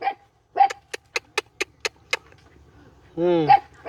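A dog barks in a quick series of sharp, close barks, then gives a longer yelping whine, with brief voices between.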